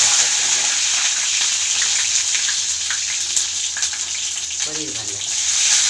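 Garlic frying in hot oil with spluttering mustard seeds, a loud steady close sizzle with faint talk underneath.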